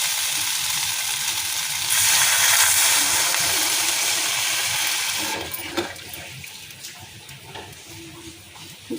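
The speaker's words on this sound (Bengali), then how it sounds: "এবার জল দিয়ে দেবো।" Water poured into an okra and potato curry in a pan: a steady loud splashing rush that swells, then subsides into softer bubbling and sizzling, with no talking.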